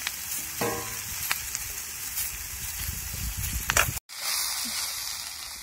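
Masala mixture sautéed in a pan for masale bhat, with a constant frying hiss and occasional stirring scrapes, briefly cutting out near the end before the sizzle resumes.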